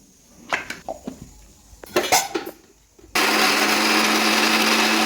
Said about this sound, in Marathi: मी सध्या आता मिक्सरमध्ये वाटण वाटून घेणार आहे